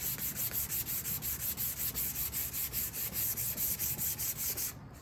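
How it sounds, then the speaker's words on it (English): A kit guitar body is hand-sanded in quick, even back-and-forth strokes, a rhythmic scratchy rasp pulsing about four times a second, close and moderately quiet, stopping just before the end. "We just sanding, man."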